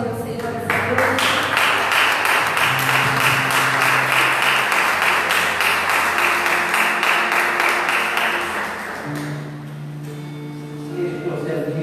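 A church congregation claps together in a long, dense burst of applause that holds steady for several seconds and then fades out, with a voice and some musical tones underneath.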